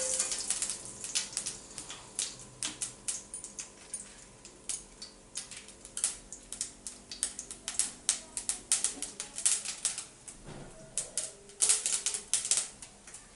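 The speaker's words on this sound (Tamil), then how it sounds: "கடுகு நல்லா பொரிஞ்சிடுச்சு." Mustard seeds spluttering and popping in hot oil in a pan for tempering, a dense run of sharp crackles and pops over about thirteen seconds with no talking.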